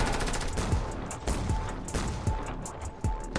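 Rapid bursts of gunfire in the Fortnite video game, sharp repeated shots crackling close and loud in uneven clusters over a constant busy background.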